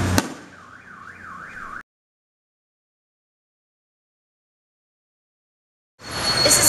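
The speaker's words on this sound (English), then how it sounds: "And it tends to set off all the car alarms in the area" A car alarm set off by nearby fireworks sounds from a balcony, a rising and falling electronic warble heard loudly for under two seconds. Silence follows, then a burst of loud broadband noise returns near the end.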